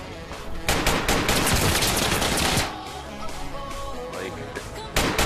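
Video game gunfire rattles in rapid bursts, dense automatic fire followed by sparser shots and clicks, loud and close with game sounds mixed in.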